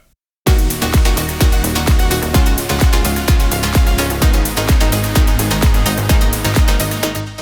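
An electronic dance track with a steady pounding kick drum and dense synth layers, loud and continuous after a brief silent start.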